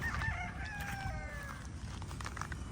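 A young gamecock stag crows once, a thin wavering call from some distance, faint against a low outdoor rumble and scattered clucking.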